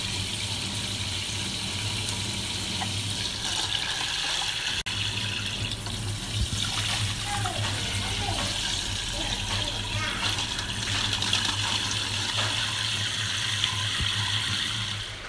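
Tap water runs steadily into a kitchen sink to cool freshly boiled eggs, a constant close splashing stream with faint clinks and background hum throughout.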